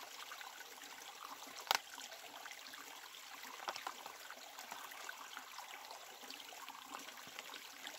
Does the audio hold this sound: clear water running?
yes